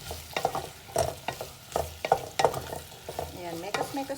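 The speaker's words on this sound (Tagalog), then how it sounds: "After ng potato guys, pwede na natin ilagay yung ating chicken." Chicken pieces fry in a pan alongside potatoes, sizzling close up while being stirred and turned in a series of uneven scraping bursts.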